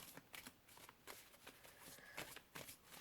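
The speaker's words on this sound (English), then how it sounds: "So it shuffles nicely." A slightly larger-than-average tarot deck shuffled in quick riffling bursts, several rapid flutters separated by short pauses, close but quiet.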